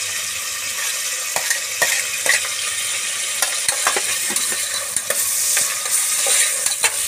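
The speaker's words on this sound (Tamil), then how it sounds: "அடுத்தது வெங்காயம் போட்டுக்கலாம்" Onions frying in hot oil seasoned with kalpasi, sizzling loudly and close as a spoon stirs them in quick scraping strokes with light taps against the pan.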